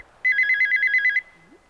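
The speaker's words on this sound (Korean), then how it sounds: "웬 전화지?" A telephone rings in a Korean drama scene: a loud electronic trilling ring pulses steadily for about a second, then stops, leaving a quiet room.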